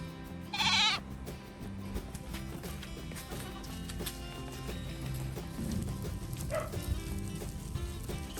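A goat hitched to a wooden cart bleats once, loud and close, near the start, with a fainter second bleat later over steady outdoor farm ambience and light clattering.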